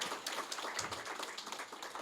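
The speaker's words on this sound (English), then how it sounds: "Please just give them a round of applause" Faint, steady applause from an audience of funders at a convening, honouring coalition members, a continuous patter of many hands clapping at a distance.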